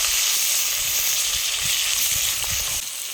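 Onions frying in oil in a pan at an outdoor riverside picnic cookout in the Sundarbans, a loud steady sizzling hiss with soft stirring scrapes beneath, close up and unbroken.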